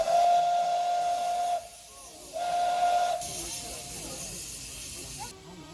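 A UK standard gauge steam locomotive whistle blows two long, steady shrill blasts with a short gap between, over hissing steam and background chatter.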